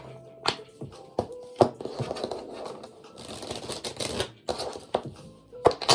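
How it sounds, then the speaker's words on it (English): Rapid crisp riffling and snapping of cards in several bursts, with sharp taps between them, close and fairly loud. "we're going to give it 2 shuffles before we dive in"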